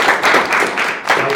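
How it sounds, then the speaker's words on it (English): An audience at a meetup claps together in a short, dense burst of applause that is close and fairly loud. "Man, can we clap for that?"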